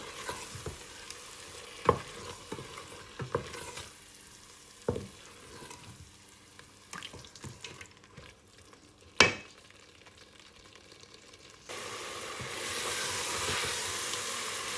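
A biryani spice mixture fries and is stirred in a pan, with a low sizzle under scattered scraping and knocking of the utensil, then a louder, steady hiss of frying near the end, close and with no voices.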